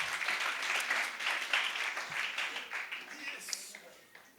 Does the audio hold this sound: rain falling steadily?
no